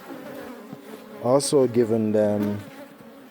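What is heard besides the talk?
honey bees buzzing at hive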